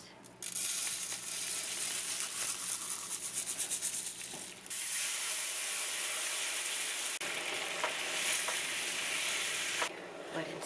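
Canola oil sizzles loudly in a pan for cooking rice, a bright continuous hiss with scraping stir sounds mixed in and brief dips as the pan is worked, heard close and with no talking.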